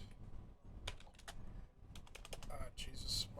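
Rapid, irregular clatter of keys being typed on a computer keyboard, close and fairly loud, with short bursts and brief pauses over a low background hum.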